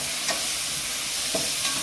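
Onions sautéing in a pan with a steady broadband sizzle, a couple of brief scraping stirs standing out near the start and end, close and moderately loud, no voices.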